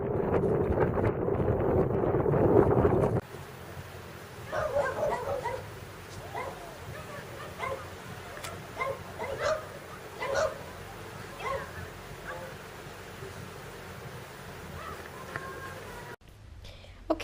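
Puppies on a roadside stop during a motorcycle trip in Baja California give a scattered series of small yips and barks, close and moderately loud, after an opening burst of heavy wind buffeting on the microphone.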